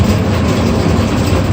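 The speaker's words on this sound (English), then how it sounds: "One of my favorite escalators in the city because it has that authentic rumbling sound to it" A rumbling O&K escalator in the Montreal metro gives a loud, steady low mechanical roar with a faint clattering texture, close by and continuous, with no voices.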